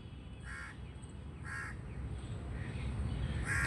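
Crows caw repeatedly in harsh bursts, a few calls spaced about a second apart, over a steady background hiss.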